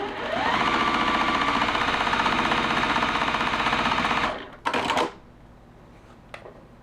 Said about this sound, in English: we're gonna put this block down and sew that piece we just talked about onto the side of it